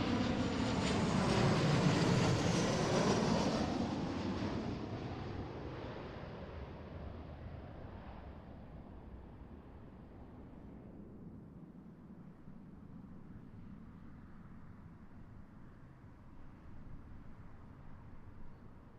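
An airliner arriving from San Diego lands at Seattle airport. A loud jet roar passes close by at first, then fades to a distant rumble that keeps going, with some wind buffeting the microphone.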